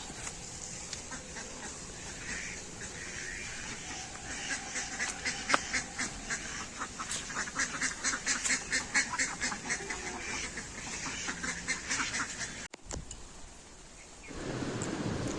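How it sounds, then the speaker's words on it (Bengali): Ducks at a pond by a duck house, a dense run of loud, rapid quacking that swells and pulses through most of the stretch before fading, with outdoor ambience behind. "এটা আমাদের হাঁসের ঘর, পুকুরে হাঁস থাকে, প্রচুর হাঁস ধরে।"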